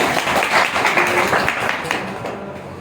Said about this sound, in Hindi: ताली बजा लीजिए अच्छा अपने लिए